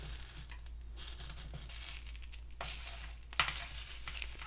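A knife slicing through a crisp, freshly grilled cheese sandwich, heard as a close, crackly crunch and scrape spread over a few seconds against a steady low hum, with no one talking.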